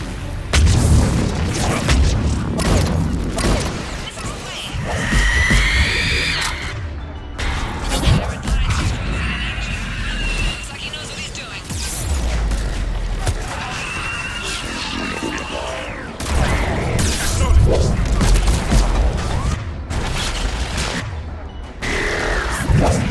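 Missile strikes and heavy explosions in the Mass Effect 3 battle on Thessia, a string of loud booming blasts and crashing debris with gunfire rattling between them, and voices calling out amid the combat.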